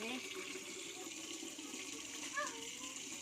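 Steady rushing of water being poured into a fish tank holding snakehead fish, a continuous splashing flow with faint voices in the background.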